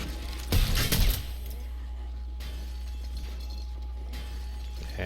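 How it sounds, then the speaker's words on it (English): Zombies smash through iron spike traps in 7 Days to Die, a loud metallic crash lasting about half a second that fades into a steady low drone. "I think they're actually smashing through those iron spike traps. That's what that metal sound is."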